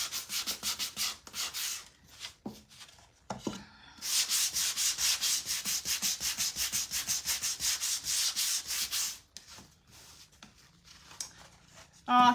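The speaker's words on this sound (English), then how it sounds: "I'm just going to sand it just a little bit to kind of blend it in a little bit more" Hand sanding of a wooden Christmas/winter craft kit piece, a steady close scratchy rubbing in repeated strokes, with a longer sustained stretch in the middle and brief pauses around it.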